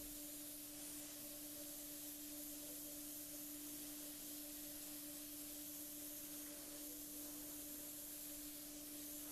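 A steady, faint airy hiss of an airbrush spraying paint runs throughout, with a constant low hum underneath and no talking.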